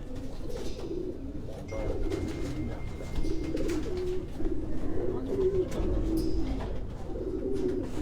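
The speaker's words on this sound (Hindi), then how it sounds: "ये जर्मनी से इम्पोर्टेड कबूतर जो हैं ये आपको तनवीर हुसैन उनकी लाट से हम दिखा रहे हैं" Racing pigeons imported from Germany cooing in a loft, soft repeated low coos in overlapping bursts from several birds close by, with light rustling and faint background noise.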